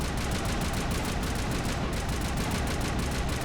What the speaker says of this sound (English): this is what a fully maxed out weapon is good for. Continuous fire.